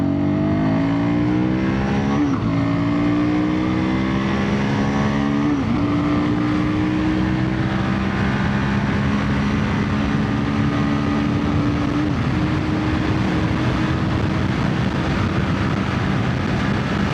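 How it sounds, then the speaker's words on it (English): A Royal Enfield Guerrilla 450 motorcycle accelerates through the gears, its engine note climbing steadily with brief dips at each shift and loud, close wind rush throughout; no voices. "The second gear in this motorcycle is butter smooth, and the response is just like that."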